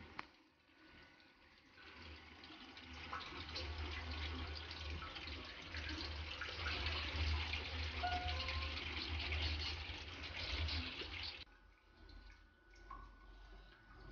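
Tap water used to cool a lab distillation setup runs in a soft continuous flow, rising after a couple of seconds, holding steady, then easing off near the end; faint and quiet overall.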